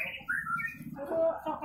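White-rumped shama (murai batu) songbird at an outdoor songbird competition field, giving a few clear, bright chirps and whistled notes close by, with murmuring voices in the background.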